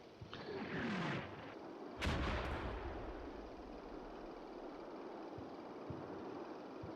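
Mortar fire in the Combat Mission: Battle for Normandy war game, a roaring rush followed by a sharp blast at two seconds, then a long rumbling decay with faint distant thuds later on.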